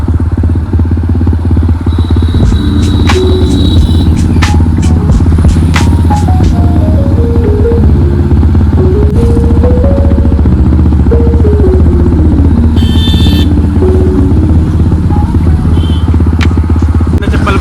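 An overheating motorcycle engine drones loud and steady while riding at sunset, with shifting tonal whine and clattering mechanical texture filling the whole stretch.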